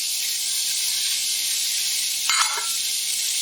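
Ground meat browns in a hot pan with carrots, celery and onion for a white bolognese pizza topping, giving a steady loud sizzle, with a brief louder spatter and clatter near the end.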